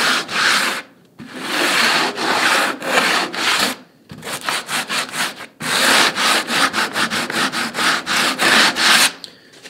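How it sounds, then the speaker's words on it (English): Sandpaper wrapped around a block of wood is rubbed over cork model-railway roadbed, giving loud, close, rhythmic scraping strokes in quick repeated bursts with brief pauses between. "wood wrapped around some sandpaper. And I'm going to go over the top and the sides of everything else here."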